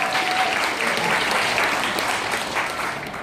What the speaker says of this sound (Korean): 박수를 치시려면 확실하게 한번 해야 돼요.